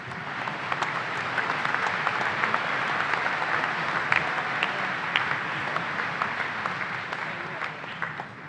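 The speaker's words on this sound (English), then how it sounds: "Let's give our doctoral and master students a round of applause." An audience at a spring university commencement for the School of Business applauds doctoral and master's graduates, sustained many-handed clapping with occasional sharper claps, steady and moderately distant.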